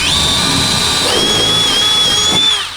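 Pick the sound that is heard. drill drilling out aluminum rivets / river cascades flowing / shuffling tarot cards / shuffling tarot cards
drill drilling out aluminum rivets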